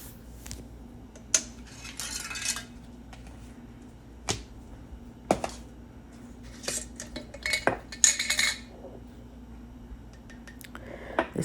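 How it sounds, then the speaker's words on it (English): A pot of vegan mac and cheese gets spun around on the stove, producing scattered metallic scrapes, knocks and clinks against the burner grate over a faint steady hum. "I'm spinning the pot around to make sure I get it nice and evenly distributed."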